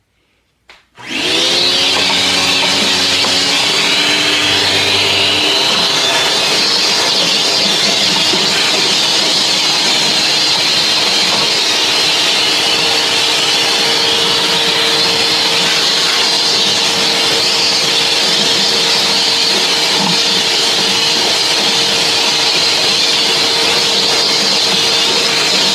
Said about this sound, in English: Okay, now I'm going to vacuum it.